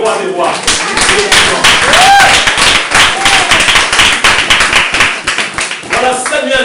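A church congregation claps loudly and continuously and cheers, with voices shouting over the dense applause throughout, close by.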